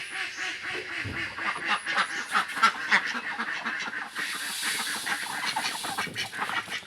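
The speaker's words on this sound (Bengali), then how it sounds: "এগুলো হাঁস আমি কিনছি শখ করে" A flock of ducks quacks continuously and close by, many overlapping calls in a busy, chattering rhythm.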